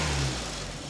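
A VW Golf GTI Mk2 engine idling roughly on three cylinders gives a low, steady rumble that fades slightly over a brief moment, heard close with no voices.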